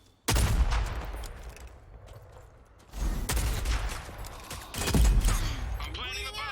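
Gunfire bursts and explosive blasts in the Rogue Company shooter game, loud and dense, coming in three heavy waves with crackling shots between them.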